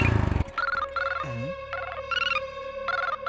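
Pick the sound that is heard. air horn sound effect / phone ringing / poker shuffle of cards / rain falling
phone ringing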